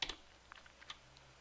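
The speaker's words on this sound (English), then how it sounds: "After, we can press G in the keyboard" A single key press on a computer keyboard during 3DS Max modelling work, a light click near the start, then a few faint taps over quiet room tone.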